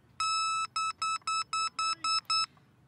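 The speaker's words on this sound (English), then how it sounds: "I will pull out the pin and then you'll hear the beep." A beep baseball's built-in speaker sounds eight even, loud electronic beeps in a steady rhythm, each a pure tonal pulse with a short gap between, over faint background noise.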